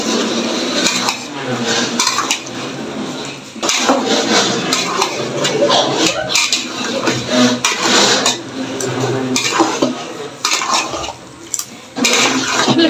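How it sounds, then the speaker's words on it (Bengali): Meat stirred into a curry in a pan as the water cooks down, with repeated scraping and clanking of a spoon against metal, broken up by short pauses and accompanied by a speaking voice. "এই যে দেখুন মাংসটা আমি দিয়ে দিয়েছি, এখন মিশিয়ে দিচ্ছি"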